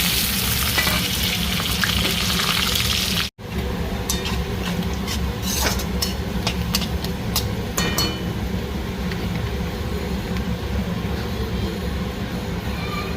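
Bay leaf and cumin sizzle in hot oil with a loud, dense frying hiss, a brief cut near the start, then a continued crackling sizzle punctuated by sharp spatula clicks and scrapes, with no voice.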